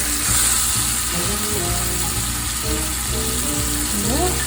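A thin flounder fillet pan-fries with a continuous bright sizzle, heard beneath steady tonal background music.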